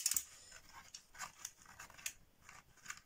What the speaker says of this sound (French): Je vais venir juste le découper